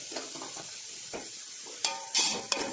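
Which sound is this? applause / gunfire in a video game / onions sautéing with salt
onions sautéing with salt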